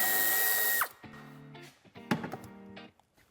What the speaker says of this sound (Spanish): quitaremos este tornillo con una llave de 7